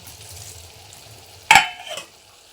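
A paste of ground cumin and dry chili powder mixed with water hits hot oil in a pan. After a quiet stretch comes a sudden loud burst of sizzle that hisses and fades over about a second, with no voices.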